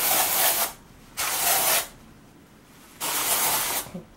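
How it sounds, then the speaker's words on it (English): Dry shampoo refresher sprayed into braided hair from an aerosol can, three close hissing bursts of about half a second to a second each, separated by brief pauses. "So I'm gonna spray it"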